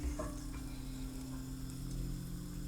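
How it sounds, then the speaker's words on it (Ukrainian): Water sizzling in a pan with a little vegetable oil during fish cooking, a continuous close hiss with a low steady hum underneath and no talk. "Так, там Водичка зашипіла."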